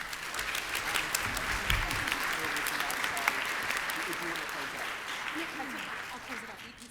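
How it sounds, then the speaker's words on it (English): An audience applauds a panel at the close of a science outreach session, a full sustained round of clapping from many people that swells and then slowly tapers. "let's give the panel another round of applause"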